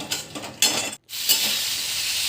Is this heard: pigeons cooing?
no